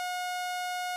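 A steady oscillator tone with a strong fundamental and a ladder of bright harmonics, held unbroken at even volume for about a second with no other sound.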